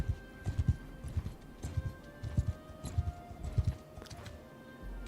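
Horse galloping in the video game Bannerlord, a rapid rhythmic run of hoofbeats in close, regular triplets, moderately loud and steady, with a faint tonal hum behind.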